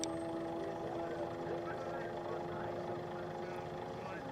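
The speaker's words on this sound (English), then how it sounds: "Sounds like a motorcycle engine." Fuel lakester race car number 984, a Class I machine, running on the salt course at Speedweek, a steady distant engine drone with harmonic whine held throughout under crowd and wind noise.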